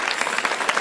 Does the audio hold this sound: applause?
yes